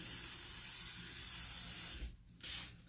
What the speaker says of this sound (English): that was my kitchen spritzer I used to spray it